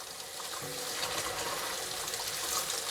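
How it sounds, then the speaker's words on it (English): Hot water runs steadily from a sink tap as rifle parts are washed beneath it, a constant hissing splash with no voices. "We're basically just gonna make the water coming out of my sink as hot as we can possibly get it."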